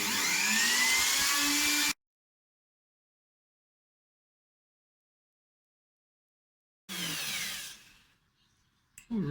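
A router cuts an MDF guitar body template in two bursts, a loud high-pitched whining screech lasting about two seconds, then silence, then another shorter cutting burst that winds down, with a brief restart at the end.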